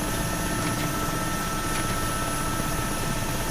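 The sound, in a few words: Mi-8 helicopter taking off in DCS video game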